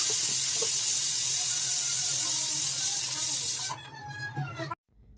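A pressure cooker of lentils releasing steam, a loud continuous close hiss that holds steady, then sputters and fades into brief gurgles before cutting off into silence.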